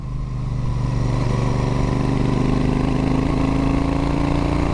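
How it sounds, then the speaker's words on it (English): A Royal Enfield motorcycle fitted with a Tec Bike Parts Cannon aftermarket exhaust runs close by, with a loud, deep, throaty engine note that holds steady and climbs slightly in pitch as it revs. "Now then, the Tec Bike Parts Cannon exhaust system."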